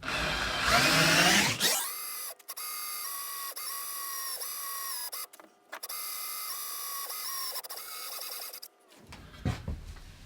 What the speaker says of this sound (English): don't use any pressure on your drill or in the drill bit, just let it sink in by itself